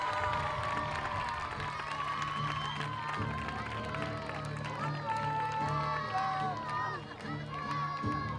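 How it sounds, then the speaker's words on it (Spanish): A crowd at a football club team presentation cheers and claps for the club president, shouts and voices mixing over scattered applause at a moderate distance. "Y fuerte aplauso para el presidente del Recreativo Puente Mallorca Club de Fútbol, Antonio Medinilla."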